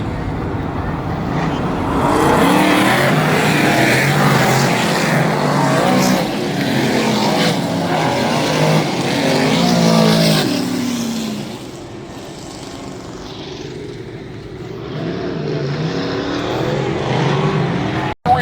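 Dirt track race cars roar through a Super DIRTcar Series heat race at Albany-Saratoga Speedway, engines rising and falling as the pack circles, loud and sustained with no talk.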